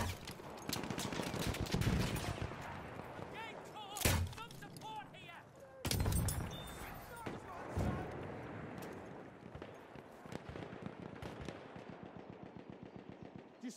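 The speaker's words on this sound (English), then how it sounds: "Enemy machine gun sighted!" Machine gun fire in the Battlefield 1 video game, with dense rapid bursts and heavy impacts amid battlefield noise and game voices over nearly fourteen seconds.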